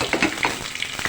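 Cumin, garlic and curry leaves spit and sizzle as they drop into hot oil with fried chillies for a tadka tempering, made for a bottle gourd raita. Short crackling pops sound close and loud, with no voice over them.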